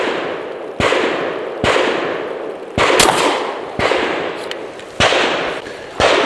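Six sharp, loud pistol shots from a ported Derya Arms DY9 firing 147 grain ammunition, spaced roughly a second apart, each crack followed by a short ringing decay outdoors.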